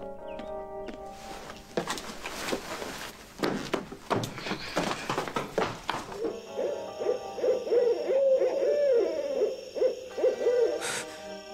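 Owl hooting in a cartoon: a series of wavering hoots starts midway and repeats steadily until the end, after an opening stretch of rustling and knocking sounds.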